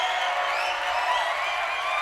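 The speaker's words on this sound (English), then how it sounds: "We're doing applause today." A short applause sound effect: a dense, steady wash of crowd clapping and cheering, loud and unbroken, with no talk over it.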